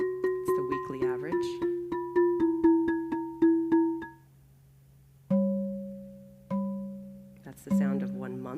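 Digital chime tones from CO2 data sonification ring out in a steady series of about ten evenly spaced dings, each marking one month, followed by a few slower, longer bell tones, clear and alone at moderate volume.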